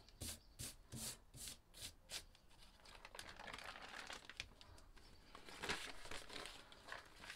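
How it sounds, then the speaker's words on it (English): Paper crinkles and rubs over fresh spray paint to texture a painted planet, first a few rhythmic crumpling bursts, then a continuous close rubbing rasp that swells and fades, with no voices. "Place it on, give it a light rub."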